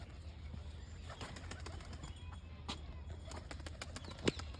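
A pigeon takes off from a rooftop loft, with a few soft wing flaps and faint coos over steady low background rumble, plus one brief sharp knock near the end.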